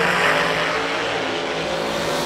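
A Top Sportsman drag race car idles loudly and roars steadily at close range at the start line, its engine filling the short stretch with a dense, continuous rumble.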